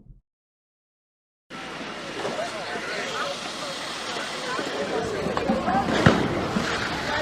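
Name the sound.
fireworks being lit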